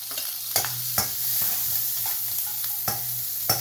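Capsicum and onion frying in a pan on a stove for a quick breakfast, a steady close sizzle broken by sharp scrapes and clinks of a spoon stirring every second or so.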